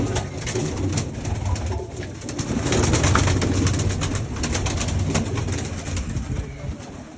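Flying pigeons cooing from a loft, soft repeated low coos layered over a constant outdoor background, with voices talking at moments.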